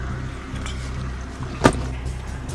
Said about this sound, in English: you're on the same side as the traffic noise